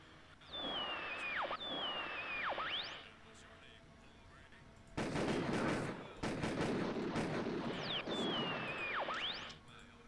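Shotgun blasts ring out in the horror video game Harvester, loud bursts over a game soundscape with a warbling synthetic tone that repeats, the firing heavy and dense through the middle of the passage.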